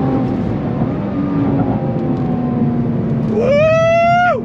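A sports car engine, a Nissan GTR or C8 Corvette E-Ray, winds up hard under loud cabin road noise, pitch stepping through quick upshifts before a sharp rising rev near the end.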